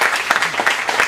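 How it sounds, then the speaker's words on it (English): Close, loud applause from an audience at a charity recognition event, a brief burst of overlapping individual claps with a few audible voices mixed in. "Let's give them a round of applause"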